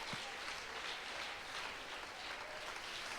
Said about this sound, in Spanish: Un aplauso a Jesús esta mañana.